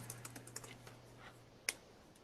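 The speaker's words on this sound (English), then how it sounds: "Okay, I'm typing the notes for you." Quiet tapping on a computer keyboard, a short run of light irregular keystrokes ending in one sharper key hit, close and alone with no voices.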